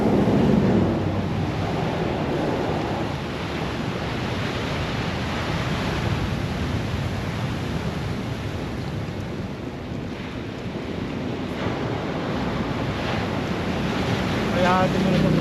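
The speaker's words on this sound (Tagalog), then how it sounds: "Pag malalaki ang mga alon talaga dito, ang ganda tingnan." Large ocean waves break on an open Pacific shore, a steady loud roar of surf with wind buffeting the microphone throughout, no voices.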